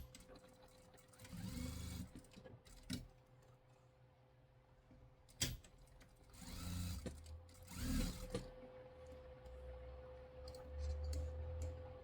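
A sewing machine stitches a straight seam on a plush sheep in short, close bursts of rapid mechanical whirring, separated by quiet pauses and a few clicks.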